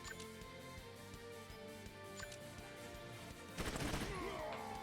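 Gunfire in the turn-based tactics game Troubleshooter: Abandoned Children, a dense burst of shots erupting late and loud over a steady game music bed with no talk.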